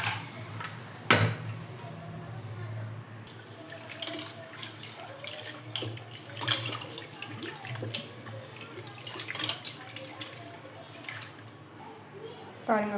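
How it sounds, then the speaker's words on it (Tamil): Soaked dal lentils for keerai sambar are rinsed in water, giving close sloshing, splashing and dripping with irregular swishes over about thirteen seconds, with some faint speech. "பருப்பு நல்லா கழுவிட்டு வந்தாச்சுங்க"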